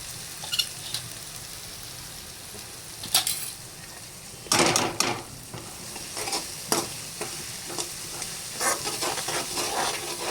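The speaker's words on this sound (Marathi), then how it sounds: "वाटून घेतलेली हिरवी मिरची ती पण परतून घ्यायची चांगली हळद टाकायची थोडीशी" Ground green chilli and turmeric sauté in a pan, a soft steady sizzle broken by loud bursts of scraping and stirring against the pan, close up, with no voices.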